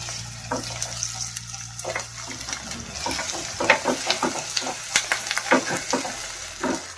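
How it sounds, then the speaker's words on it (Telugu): Ginger garlic paste sizzles in hot oil with cooked onions in a pan, a crackling fry broken by sharp stirring scrapes and spoon clatter, loud and close. "ఇప్పుడు అల్లం వెల్లుల్లి పేస్ట్ 1 స్పూన్ వేసేసుకోవాలి. ఇది కూడా పచ్చివాసన పోయే వరకు వేయించుకోవాలి."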